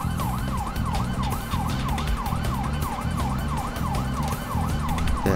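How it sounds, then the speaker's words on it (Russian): Police sirens in the Grand Theft Auto V video game wail in a steady, repeating up-and-down cycle over a low rumbling engine drone, loud and continuous throughout. "Так, сирены."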